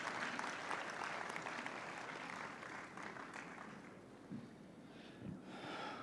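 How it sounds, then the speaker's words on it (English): An audience at a graduation ceremony gives a round of applause, a steady wash of clapping that sounds distant and fairly faint, thinning slightly toward the end. "I would like to welcome, with a huge round of applause, Mr. Saad Wasim"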